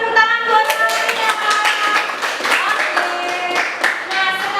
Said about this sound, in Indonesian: Tepuk tangan buat Malukia.